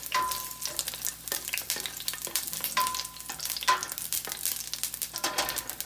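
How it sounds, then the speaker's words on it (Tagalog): Garlic sizzles in hot oil in a pan for Ilocano igado, crackling steadily as a utensil stirs and scrapes with intermittent clinks, close and moderately loud. "Ayan yung garlic. Haluin natin ng konti."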